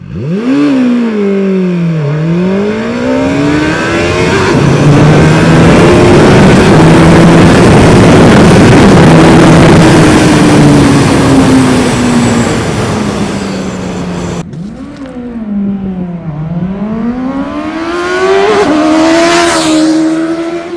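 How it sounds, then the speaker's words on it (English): A QJMotor SRK921RR motorcycle engine revs hard, pitch sweeping up and down repeatedly, roaring close by with a sustained high-rev stretch in the middle. "this engine is very angry, very powerful"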